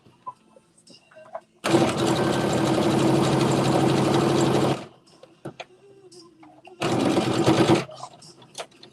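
A sewing machine back stitches a seam on a Simplicity S9463 garment: one loud, steady run of about three seconds, a pause with light handling noise, then a shorter burst of about a second, close by.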